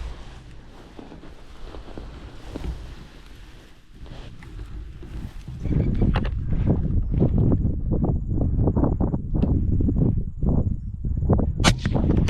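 Air rifle shots fired at pests on a hunt after riding a Surron Light Bee electric bike, heard as a rapid series of sharp cracks in the second half, repeating every half second or so against wind noise outdoors.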